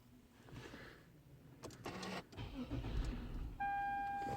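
A Lexus/Toyota car is started after a battery change: faint clicks and cranking bursts, then the engine catches with a rising rumble and a steady chime tone, heard close in a garage.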